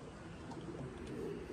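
Soft cooing of pigeons in a foggy outdoor setting, a low murmuring call heard faintly over steady background noise in a brief stretch with no talking.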